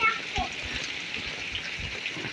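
Heavy monsoon rain in Mumbai, a steady hiss of downpour with water splashing nearby and faint talk underneath.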